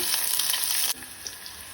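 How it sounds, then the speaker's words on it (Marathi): Loud, close sizzling and frying comes from a tempering of green chillies, mustard seeds, asafoetida and curry leaves being stirred in hot oil in a pan for a Goan green chilli dal curry. It cuts off abruptly partway, leaving only a faint residual crackle. "फोडणी ढवळून घेऊया"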